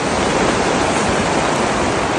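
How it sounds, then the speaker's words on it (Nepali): Dense, steady rush of rainfall over a strawberry field in Greece, loud and unbroken, like heavy rain pouring close by. "पानी सुरु भयो साथी हो"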